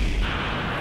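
Explosion in the Ultraman FER video game, a short loud low boom that fades into rumbling debris noise within a second.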